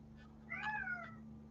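Pet cat meowing once, a single drawn-out, slightly rising and falling meow, moderately close, over a steady low electrical hum.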